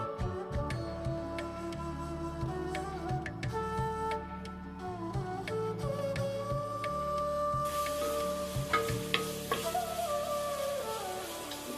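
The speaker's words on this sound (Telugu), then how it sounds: "మూడు పొడవుగా కట్ చేసుకున్న పచ్చిమిర్చి ఒక పెద్ద ఉల్లిపాయ సన్నముకలు కట్ చేసుకుని యాడ్ చేసుకోండి" Sliced onion and long-cut green chilies frying with whole spices for coconut pulao, a soft continuous sizzle with scattered faint clinks, heard beneath a steady background hum that thickens partway through, with no talk.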